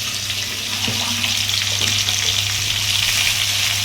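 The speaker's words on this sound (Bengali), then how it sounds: "হলুদ দিয়ে নুন দিয়ে কাঁকরোলটা ভাজবে" Teasel gourd fries in hot oil with turmeric and salt, giving a loud, steady, close sizzle with faint stirring scrapes and no speech.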